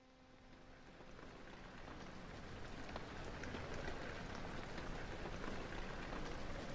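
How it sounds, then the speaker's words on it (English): Steady rain falls in the horror video game Amnesia: The Dark Descent, a dense, continuous hiss that gradually builds from soft to a constant moderate level with no talking. "I thought I could hear just rain"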